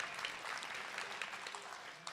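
Congregation clapping during a church sermon, a steady wash of many hands applauding together throughout, dense and continuous with no break.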